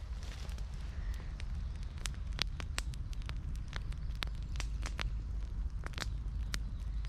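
Campfire lit from a single match crackles steadily outdoors, with dense sharp pops and snaps scattered over a continuous low roar of burning wood.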